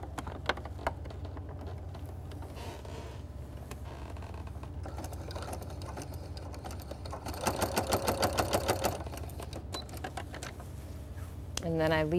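A sewing machine stitches a country apron, its rapid mechanical burst loud and clear for about a second and a half midway, with softer machine noise and handling sounds around it over a steady low hum.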